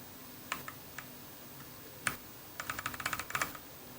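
Keys clatter on a computer keyboard while commands are entered in a Linux terminal, a few isolated clicks followed by a quick burst of typing, faint and close.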